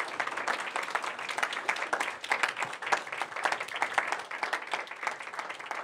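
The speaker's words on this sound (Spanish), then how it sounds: "Ya me dan ganas de otro aplauso" Church congregation applauding at a service, sustained lively clapping from many hands at moderate distance, steady throughout with no voices standing out.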